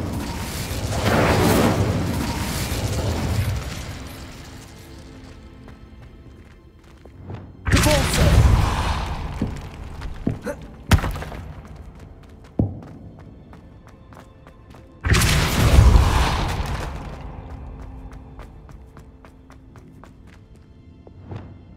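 Incendio fire spell cast in Hogwarts Legacy, heard as a few heavy booming whooshes with thuds, separated by quieter stretches of game ambience and footsteps.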